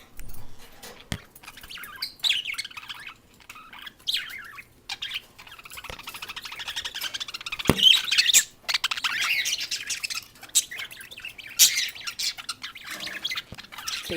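Budgies chirp and squawk from inside a cage in a small home aviary, with bright rapid tweets in bursts and occasional sharp calls, moderately close, and no voices.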